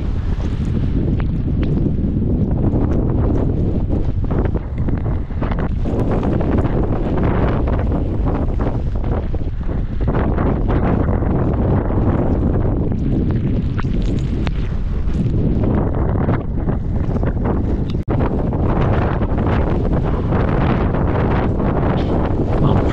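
Strong wind buffets the microphone while sailing near Saint-Vincent, with rain driven almost horizontally. Loud, continuous roaring gusts rumble and surge throughout with no talking.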